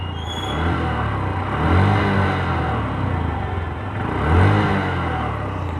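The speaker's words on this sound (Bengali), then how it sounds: "এক্সস্ট নোটটা একটু শোনাই" A Honda Livo 110 motorcycle engine idles close by with a deep, throbbing exhaust note, revved twice in rising swells.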